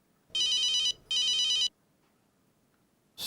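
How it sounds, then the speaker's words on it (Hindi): A telephone rings twice in a home, two loud, clear electronic bursts separated by a short gap, followed by silence before a third ring begins at the very end. "किको फोन है, देख।"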